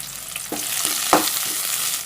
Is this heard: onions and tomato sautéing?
yes